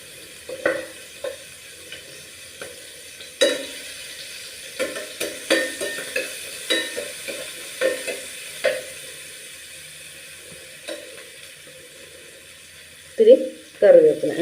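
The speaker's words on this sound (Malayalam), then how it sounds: "അതിലോട്ട് നമുക്ക് കുറച്ച് ചതച്ച് വെച്ചേക്കണം വെളുത്തുള്ളിയും പച്ചമുളകും ഇട്ട് കൊടുക്കാം" Crushed garlic and green chilli frying in a pan, heard as a faint sizzle broken by sparse spoon clicks and stirring knocks, with a louder burst near the end.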